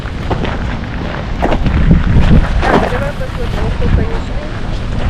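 Wind gusts buffet the microphone with a heavy low rumble while a person talks over it nearby, outdoors on the Baltic coast.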